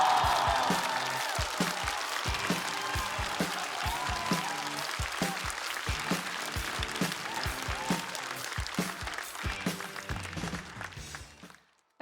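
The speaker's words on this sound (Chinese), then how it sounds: "我们掌声有请鸭蓉" Studio audience at a stand-up comedy competition applauding to welcome a comedian on stage, sustained dense clapping that gradually thins out and stops abruptly near the end, with a faint voice briefly in the background.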